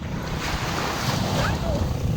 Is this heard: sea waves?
yes